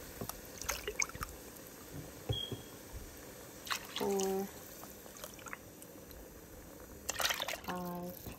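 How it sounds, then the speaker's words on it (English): Cashew milk pouring into a cooking pot in short bursts, soft liquid splashes and trickles alternating with pauses, with a person talking in between. "now I'm gonna add in 6 cups of cashew milk"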